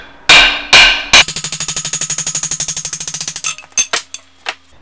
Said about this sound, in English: The easiest way to take the handle out of the axe is just by using a drift and having it loosely clamped in the vise.